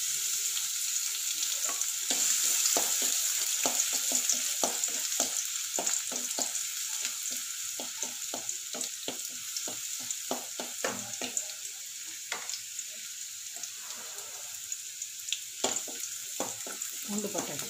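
Garlic frying in oil makes a light sizzle under a dense run of sharp scraping and clicking strokes as a spatula stirs steadily in the pan, the stirring continuing throughout.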